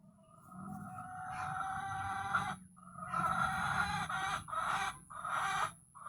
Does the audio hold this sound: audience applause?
no